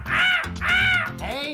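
A voice imitates a crow's caw for a crow puppet: three loud, harsh, close caws in quick succession, with no other sounds around them.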